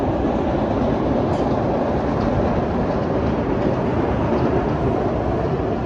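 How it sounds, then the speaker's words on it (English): A train rolls past near Penn's Landing in Philadelphia, a loud, continuous rumbling roar with a steady rail clatter throughout. "Look at there's a train out there"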